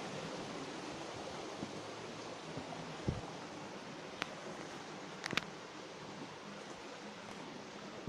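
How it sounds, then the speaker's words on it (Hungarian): Stream water trickles and hisses in a steady, soft wash on a hiking trail, with a few light knocks and scuffs nearby. "Itt már csak csordogál a víz."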